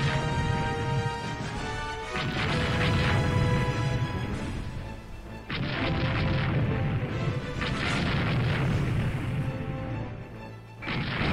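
Naval guns and shells firing and striking targets in the naval strategy game Rule the Waves 3, a dense run of rumbling booms and crashing impacts that swells, dips near the middle, then surges again, loud and layered without any talk.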